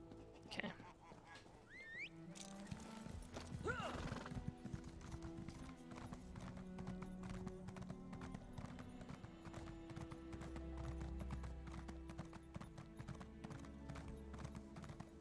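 A horse gallops in the game Elder Scrolls Online with rapid repeated hoofbeats, fairly faint, alongside honking bird-like calls early on and a low hum of background game sound.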